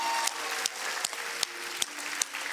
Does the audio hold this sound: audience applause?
yes